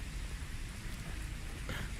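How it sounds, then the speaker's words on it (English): Steady rain falls outdoors as a dense, even hiss with soft patter, faint and continuous without any break. "it is a nice rainy day"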